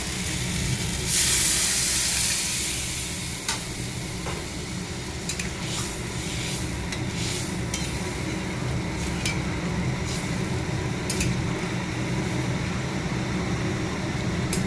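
Water poured into a pan of hot fried spiced fish masala, a loud burst of hissing steam that settles into a steady sizzle with occasional clicks of utensils, close and without talking.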